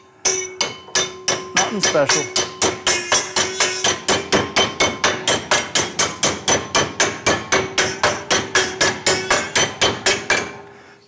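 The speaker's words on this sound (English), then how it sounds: "Just whack it with a hammer" Rapid run of loud hammer blows strikes metal being bent into a DIY magnetic microphone clip for a Rode Wireless GO II, about thirty evenly spaced ringing whacks over eleven seconds, with brief talk near the start.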